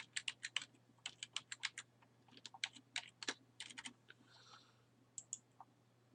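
Keys on a computer keyboard clatter in quick irregular bursts as a password is entered, crisp close-up clicks with short pauses, in an otherwise quiet room.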